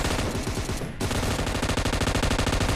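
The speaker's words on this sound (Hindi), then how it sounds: "मैं अंदर फायर करके घुस जाता हूँ" Sustained automatic gunfire in a battle royale video game, rapid rhythmic bursts filling the whole stretch at loud, close range with a brief gap near the start, no voices.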